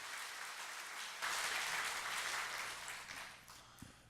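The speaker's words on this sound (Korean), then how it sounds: "박수 한번 합시다." A church congregation claps together during a Sunday worship service, a soft, distant wash of applause that swells briefly and then gradually fades.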